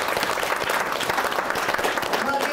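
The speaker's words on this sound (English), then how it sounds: "give yourselves a round of applause" An audience claps steadily at the close of a panel event on organizing, philanthropy and research, with dense, sustained applause throughout and no talk over it.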